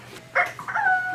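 A second-grade child imitates a chicken with a short series of high, strained squawking cries that rise in loudness and end in a longer drawn-out call, close to the microphone.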